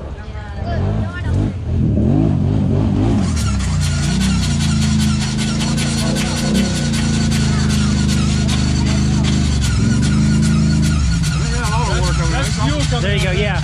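A brand-new Honda Pioneer 700 side-by-side that had been drowned starts up. After a few seconds its engine is floored and held at a loud, sustained high-rev roar, with voices talking around it.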